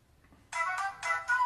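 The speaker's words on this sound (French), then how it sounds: "Je vais lancer un petit Angry Bird pour vous montrer" The Angry Birds game launching on an HTC ChaCha phone plays a bright, tonal startup jingle in several loud bursts through the phone's speaker after a brief quiet moment, with no voices over it.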